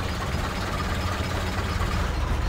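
A stolen tractor engine in Garry's Mod runs with a steady, continuous low rumble, loud and unbroken throughout.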